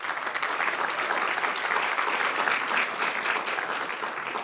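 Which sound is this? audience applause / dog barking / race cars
audience applause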